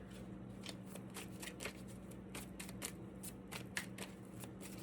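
Playing cards shuffled by hand over a steady low hum, a run of quick riffling bursts and soft slaps continuing evenly through the clip at close range, with no talking.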